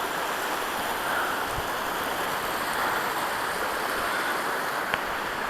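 Floodwater running down a washout stream in Peeples Valley, Arizona: a continuous broad rushing of water, close and steady throughout, with no voices.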